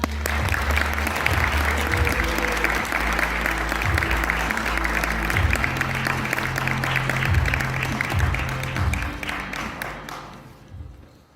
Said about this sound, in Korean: 첫 발표팀의 힘찬 응원의 박수 부탁드립니다